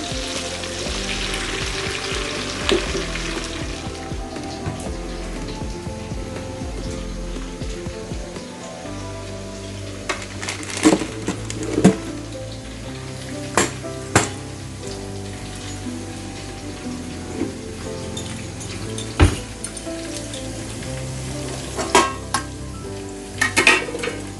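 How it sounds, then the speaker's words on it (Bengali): Onions fry in hot oil in a pan for a beef tehari, a steady sizzle with occasional sharp clinks and scrapes of a spoon stirring, close and continuous with no talk. "এখন পেঁয়াজটা আমি সুন্দর করে ভেজে নিচ্ছি"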